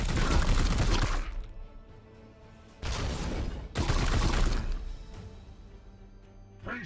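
Gunfire in Warhammer 40K: Chaos Gate Daemonhunters, heard as three loud broadband volleys, one long opening burst and two later back-to-back ones, with quieter rumbling game ambience in the gaps.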